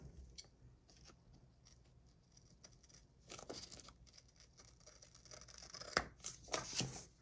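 Scissors snip through paper close by in quiet, irregular cuts and rustles, growing into a few sharper, louder snips and crinkles toward the end.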